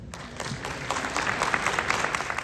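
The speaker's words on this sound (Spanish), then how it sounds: "Un aplauso, por favor." An audience at an agricultural innovation symposium bursts into applause: a dense, steady wash of many hands clapping that grows slightly louder and continues throughout the short moment, with no voices standing out.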